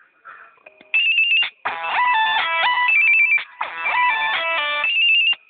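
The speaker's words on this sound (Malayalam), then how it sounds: "ഈ അവസരത്തിൽ അദ്ദേഹത്തിന് ഫോൺ വന്നു. അദ്ദേഹം ഫോൺ എടുത്തു." A phone ringtone announces an incoming call, with bright electronic melodic chimes playing loud and close in two long bursts after a short quieter start, and no talking.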